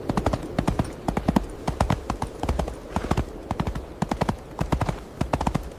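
Rapid, rhythmic hoofbeats of a galloping horse, loud and close, pounding steadily with no voices.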